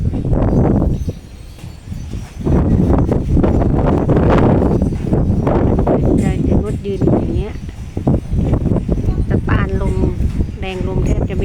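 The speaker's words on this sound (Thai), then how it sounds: "ลมมาแรงมาก" A strong storm wind blows through the town of Lampang, Thailand, a loud, steady roar buffeting the microphone while someone talks throughout.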